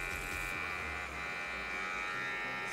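A StylPro makeup brush cleaner spins a brush dry with a steady, loud, high motor whir and buzz that holds continuously throughout, close up and without voices.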